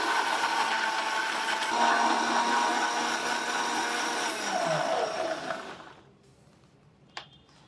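A blender with carrot pieces and water whirs loudly and steadily for several seconds, then winds down and stops, leaving near silence and a faint click.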